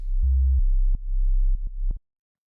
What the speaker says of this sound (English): just basically a clean sine wave